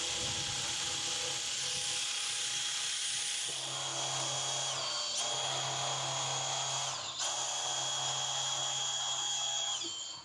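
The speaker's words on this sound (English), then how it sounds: "we're just gonna stick the drill on here and run it" A cordless drill drives a dump trailer's drop leg jack, giving a steady, loud whirring motor drone that runs continuously near the listener, with a deeper hum joining partway through.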